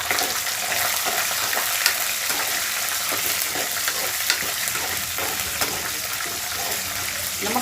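Dry red chillies, green chillies and cashews fry in a hot oil tempering for tamarind-free lemon pulihora, giving a loud, continuous sizzle with occasional stirring scrapes and pops throughout.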